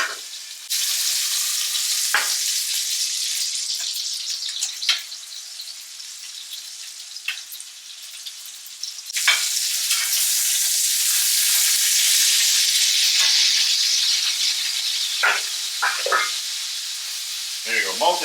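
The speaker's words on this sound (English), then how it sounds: "we're going to have to add a little water for a quick steam." Water is added to basted eggs in a hot cast iron pan and bursts into a loud, continuous steaming hiss and sizzle, with occasional clinks and scrapes as it keeps going.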